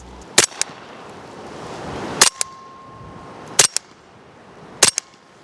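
A suppressed bearing-delayed Scorpion fires subsonic rounds into a dirt berm outdoors, four sharp, close cracks spread over several seconds, each followed by a quick metallic clack of the bolt, with quiet air between shots.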